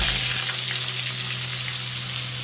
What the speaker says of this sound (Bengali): বাটার দেওয়ার সাথে সাথে মশলাটাও দিয়ে দেবো বাটার বেশি পুড়ে গেলে হবে না